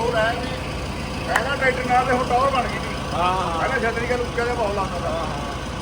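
A tractor fitted with an AC cabin idles with a steady low rumble, while people talk close by over the constant engine drone.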